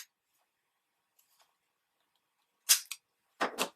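Scissors trimming the corners of scrapbook paper round for a mini travel journal cover, giving a few sharp close snips in quick pairs against near silence.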